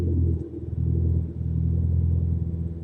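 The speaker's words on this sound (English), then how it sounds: "I love the sound of that car." A Ford Mustang's engine rumbles low and steady in the background, a continuous deep drone with slight pulsing and no talk.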